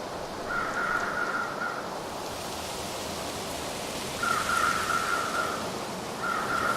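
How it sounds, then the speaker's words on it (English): Video game ambience from a work-in-progress orca game: steady broadband wind rushing through trees, with bursts of crow cawing in repeated short strings at the start, middle and end, no talking. "you can hear the wind moving through the trees"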